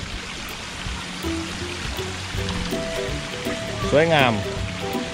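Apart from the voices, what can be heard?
waterfall and flowing water in a temple garden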